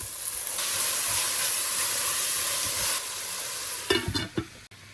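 Onions sautéing in a hot pan give a steady, close sizzle with hissing steam for several seconds, then the frying fades as a few sharp stirring clatters break in near the end.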